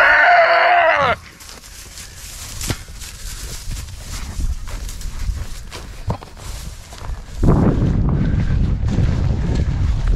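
A stuck goat bleats in a loud burst at the start, then quieter outdoor noise with wind buffeting the microphone follows, and a louder broadband rush of wind or movement returns near the end.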